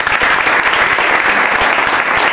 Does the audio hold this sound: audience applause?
yes